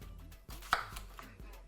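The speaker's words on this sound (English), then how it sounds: "This is the easiest way of chopping a mango" A knife chops a mango at home in a kitchen, giving a few sharp isolated knocks on the board, one louder than the rest, with quiet pauses in between.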